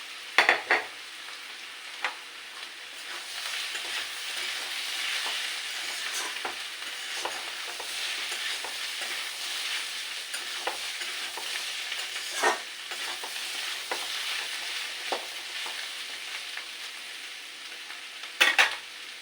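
Shrimp and teasel gourd fry in a pan with a steady, close sizzle and occasional stirring scrapes, including sharper clatters near the start and end; no voices.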